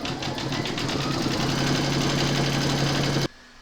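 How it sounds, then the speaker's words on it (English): An embroidery machine stitches a securing round over fabric held in a hoop, a close, loud and steady rapid mechanical chatter that runs unbroken for about three seconds before stopping abruptly. "Pop your hoop into your machine and stitch round number 3 to secure it"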